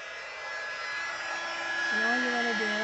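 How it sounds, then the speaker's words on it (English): Heat embossing tool melting embossing powder on a handmade floral card: a steady, whooshing fan-heater hum that holds constant, with a voice briefly speaking over it near the end. "And then I'm just going to heat emboss it."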